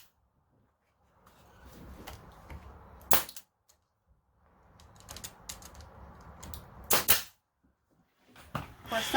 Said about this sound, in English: somebody more proficient with a staple gun would be quicker at this than I am